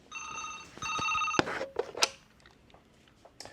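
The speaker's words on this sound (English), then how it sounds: "the phone's ringing" A phone in a Da Nang, Vietnam hotel room rings with two electronic ring bursts in quick succession, moderately loud, followed by clicks and handling noises as it is picked up.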